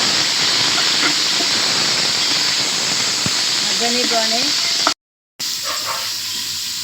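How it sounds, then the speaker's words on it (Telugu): Onions cook in a pan for tomato rice, giving a loud, continuous steam-like hiss that cuts out briefly near the end, with a short voice faintly heard partway through. "మగ్గినాక ఉల్లిగడ్డలు వేద్దాము. ఉల్లిగడ్డలు బాగా కొంచెం మగ్గనిద్దాము."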